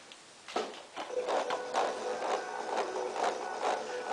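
A homemade speaker built from a tupperware container, a magnet and a coil plays audio fed through a jack cable, giving a thin, tinny, hissy output with faint, buzzy pulses, quiet and close.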